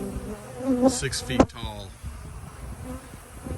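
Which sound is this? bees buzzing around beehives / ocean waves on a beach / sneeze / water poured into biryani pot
bees buzzing around beehives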